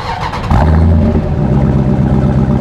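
Dodge Durango SRT 6.4L HEMI V8 starting by remote key, a short crank followed by a loud, deep idle rumble that settles into a steady low burble, heard close with no talk.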